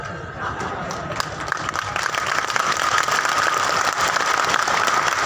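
Crowd applause at a live outdoor stage performance at a Teja Darshan festival in Barmer, dense clapping building slightly in loudness, with some voices and stage sound mixed underneath.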